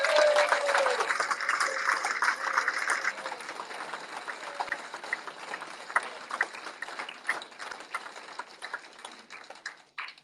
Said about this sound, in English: So do you want to give the players a round of applause?